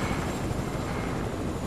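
Helicopter in the video game Fortnite, a steady, loud rotor and engine roar that fills the whole moment without a break, with no talk over it.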